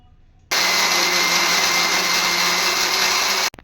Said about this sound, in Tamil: இதையும் ஒரு மிக்சி ஜாரில் போட்டுக்கலாம்.